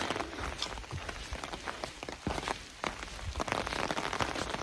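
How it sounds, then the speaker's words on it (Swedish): Rain patters steadily on a forest hiking trail along Bergslagsleden in Sweden, a dense, continuous hiss of drops with scattered louder taps nearby and no voices. "Som vi trodde så regnar det på oss idag."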